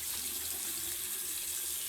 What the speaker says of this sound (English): Alright, now I'm gonna rinse my face.